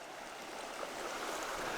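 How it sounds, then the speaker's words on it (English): A small babbling creek running back through foliage at a camp spot, a steady soft wash of flowing water with no talk. "there's a little creek over here, a little babbling brook, back down through the foliage here"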